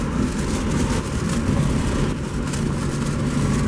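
Engine of a 2000 Mazda Miata revving high while the car is driven, a steady loud drone with road and wind roar that holds through the whole stretch, no talk.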